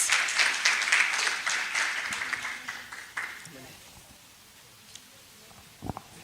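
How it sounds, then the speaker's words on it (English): Audience applause at a conference, brisk clapping for about three seconds that tapers into quiet room tone, with a couple of isolated thumps near the end. "round of applause, round of applause"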